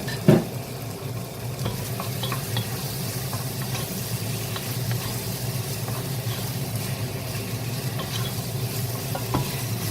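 Pork browning in a pan with softened tomato for ginisang monggo sizzles steadily and close, with scraping stir strokes and occasional clinks of a utensil against the pan, a sharp knock at the start.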